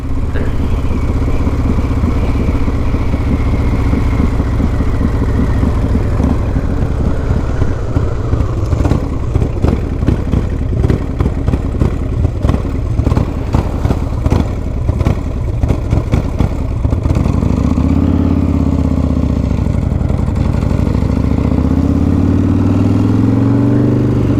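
A Harley-Davidson Fatboy with a 140ci motor is ridden hard, a loud, deep V-twin drone with rapid pulsing exhaust beats through the middle, then easing into a lower steady rumble, no speech heard.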